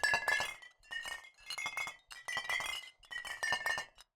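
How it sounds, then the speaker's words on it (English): A video game sound effect of glass bottles clinking and rattling together in repeated bursts separated by short silences, bright and close. "So we have the glass bottle moving around."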